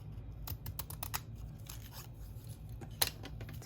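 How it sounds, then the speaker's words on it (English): Crisp snipping and rustling as scissors cut through paper, a run of quick irregular snips with one sharper cut near the end, quiet and close. "I like using these scissors"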